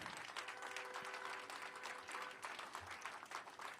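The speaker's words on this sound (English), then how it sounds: "Give them another big round of applause for their vision." Soft, steady applause from a crowd at a building re-dedication fills the whole stretch, fairly distant and even, with no speech over it.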